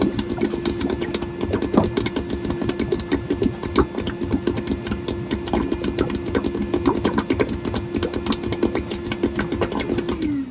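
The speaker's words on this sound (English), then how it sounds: "I honestly wasn't sure if that little 20-volt vacuum was going to do this" A small 20-volt cordless vacuum draws oil out of a 2003-2005 Ford Excursion Powerstroke engine, making a steady mechanical whir with a low hum and rapid rattling clicks that hold at an even level throughout.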